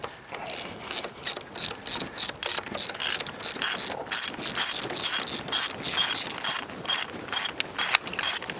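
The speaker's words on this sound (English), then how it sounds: "Let me pull these plugs back out. Try to turn it over again." A 1947 International KB3 truck engine being turned over by hand with spark plugs removed, giving a loud repetitive ratcheting click in steady strokes, close up with no talk.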